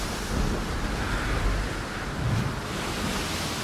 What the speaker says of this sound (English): The powerful waves tossed the ship about as though a toy.